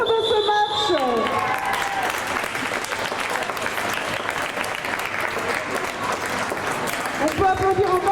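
At the close of a roller derby match, a crowd applauds both teams in a sustained burst of clapping, with a voice over a loudspeaker briefly heard at the start and end.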